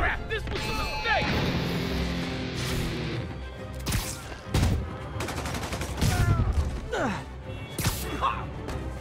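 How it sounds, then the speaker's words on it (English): Enemy gunfire from Spider-Man Remastered on PC, scattered loud cracks and bursts mixed with crashes, whooshes and game effects, with voices shouting over the action. "Open fire!"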